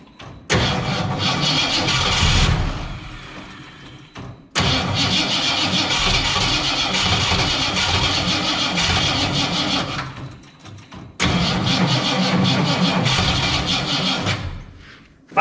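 A 1967 Ford Fairlane engine cranks loudly and up close in three long bursts of several seconds each, with short silent pauses between, never quite catching to a steady idle.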